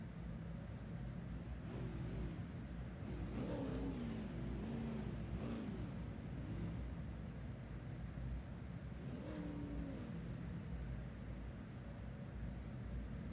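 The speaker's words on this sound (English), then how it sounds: "Revs are building here for the Euro V8 PenPower Series." V8 supercar engines idle and rev together on the starting grid in the iRacing game, a low, steady rumble with rising and falling throttle blips layered across the field, heard without talk.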